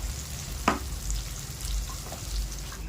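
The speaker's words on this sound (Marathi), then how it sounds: "शेंगदाणे, हिरवी मिरची, लसण चांगली फ्राय होऊ द्यायची." A paste of peanuts, green chilli and garlic fries in a pan with a soft, steady sizzle and a brief scrape of stirring, fairly quiet and close with no talking.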